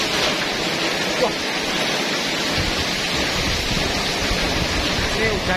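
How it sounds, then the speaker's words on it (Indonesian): Heavy rain driven by strong wind, a dense, constant roar of noise that fills the whole clip at close range with no pauses. "Ini hujannya ngeri banget."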